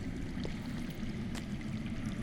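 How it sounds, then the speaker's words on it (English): Underground water flowing in a Game of Thrones video game, a faint, steady rushing and trickling murmur heard alone as a continuous low background wash. "I hear water. From underground."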